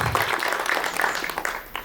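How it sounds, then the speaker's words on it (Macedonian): Audience at a school year-end ceremony applauding, a dense steady patter of clapping that stays even for the short stretch without pausing. "Уште еден аплауз за ова."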